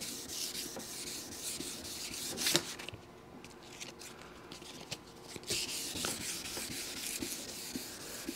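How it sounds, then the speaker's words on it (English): Sandpaper rubbing over an acrylic truck camper window during restoration, a steady scratchy back-and-forth sanding close up with a couple of brief louder strokes and a quieter stretch mid-way. "you might not be able to see, but you're going to feel them as you're sanding"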